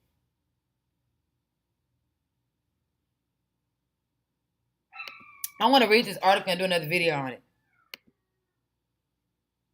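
A cat meows several times close by in a short run of loud, drawn-out calls after silence, followed by a faint click.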